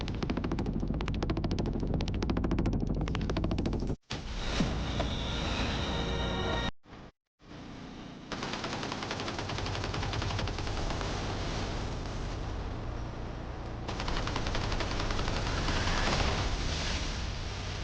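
Sustained machine-gun fire in a war video game hammers loud and continuously, broken by a couple of brief cutouts before the bursts resume.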